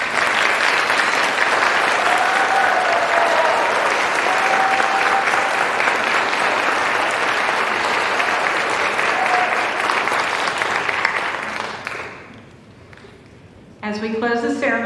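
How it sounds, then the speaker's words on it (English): An audience at a Phi Theta Kappa induction ceremony applauds the inductees with dense, sustained clapping for about twelve seconds. It then fades quickly, and a voice starts speaking at the very end. "Let's give our inductees a round of applause."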